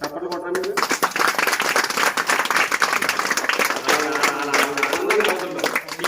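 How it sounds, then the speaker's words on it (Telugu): An audience at a devotional talk claps in bursts of sharp, rapid hand claps, mixed with a speaker's voice talking over and between them. "చప్పట్లు కొట్టాను మీరు"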